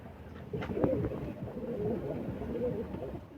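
Soft, low cooing of a single female Kasuri pigeon repeats in short phrases over a faint background murmur, close by and fairly quiet.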